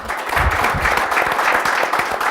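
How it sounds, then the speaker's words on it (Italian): An audience at a local televised event in Fae' di Oderzo applauds with close, continuous clapping, a busy rattling texture that stays loud and steady throughout. "Un applauso."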